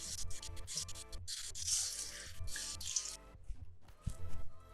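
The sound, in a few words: rinsing celery sticks under running water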